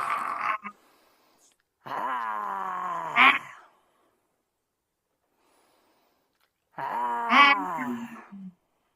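A human voice imitating a lion roar during a yoga exercise, tongue out: three long, breathy, groaning exhalations separated by silences, close and fairly loud.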